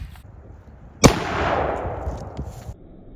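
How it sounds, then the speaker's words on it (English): A green-tip rifle round fired into a heavy battery armor panel: one sharp, loud close crack followed by a rolling, decaying rumble that trails off over about two seconds. "This is gonna be the second round going into this heavy panel."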